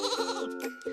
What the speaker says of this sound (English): and these adorable sheep